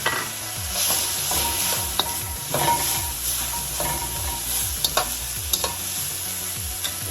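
Singapore noodles stir-fried in a hot pan with bean sprouts and scallions, a steady close sizzle broken by repeated scraping and clattering stirs of a utensil against the pan, with no voices.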